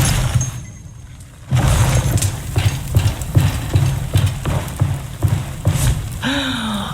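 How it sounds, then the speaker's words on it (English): Footsteps sound in a town in the PC game No Rest for the Wicked: a regular series of clopping thuds, close and fairly loud, over a background of ambient noise. "Oh, I've missed the sound of footsteps in here."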